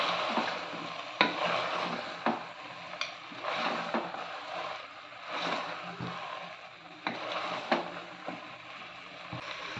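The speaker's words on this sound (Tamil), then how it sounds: "சாம்பார் பொடியை காயோடு சேர்த்து நல்லா கிளறி விட்டுக்கலாம்" Steady sizzling of vegetables frying in a pan as sambar powder is stirred in, with repeated scraping strokes of a spoon; close and moderately loud, no voices.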